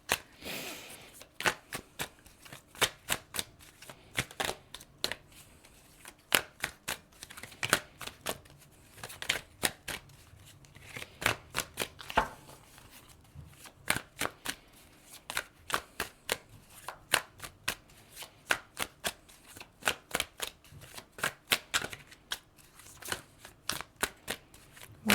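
Tarot cards from the Clarifying Life Situations deck being shuffled by hand, a steady run of crisp riffling flicks and soft slaps close by, repeating in short bursts with brief pauses, no talking.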